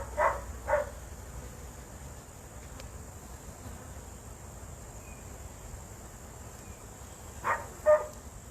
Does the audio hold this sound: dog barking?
yes